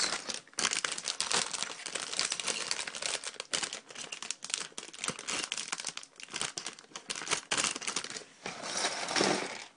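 A plastic LEGO parts bag being opened, loud irregular crinkling and crackling of thin plastic in bursts, close to the microphone with no talking.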